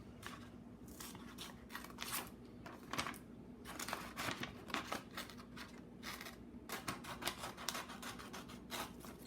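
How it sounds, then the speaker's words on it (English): Scissors snip out paper tangram shapes in a run of crisp close cuts and rustles, fairly quiet, with short pauses between bursts. "I want you to cut all of your shapes out"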